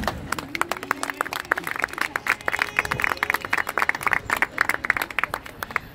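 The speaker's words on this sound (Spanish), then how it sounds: "Los aplausos espontáneos." Spontaneous applause from a small group outdoors, quick sharp hand claps in an uneven patter, close and fairly loud, with faint crowd murmur beneath.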